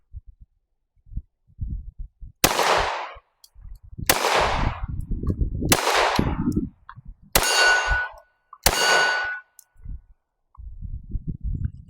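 Compact pistol shots at a target from a Glock 43X MOS or a Shadow Systems CR920XP fitted with a compensator: five loud, sharp reports spaced roughly a second and a half apart, each ringing briefly, with quiet handling noise between.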